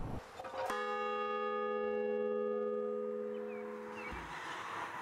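A single bell strikes and rings out with a clear, sustained tone for a few seconds before cutting off abruptly.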